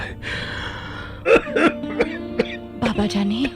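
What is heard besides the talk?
coughing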